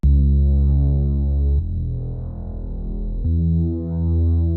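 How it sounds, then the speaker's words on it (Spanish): A Reese bass synth in a reggaeton beat plays alone, a loud, thick, droning low tone with shifting, wobbling pitch and a faint high steady whine. "seguimos, es este hermoso Reese Bass"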